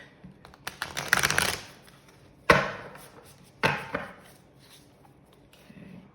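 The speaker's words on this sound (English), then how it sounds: "It's hard to shuffle, but it's worth it." Tarot cards riffle and shuffle in a few quick bursts, close and crisp, separated by pauses; someone says a single word.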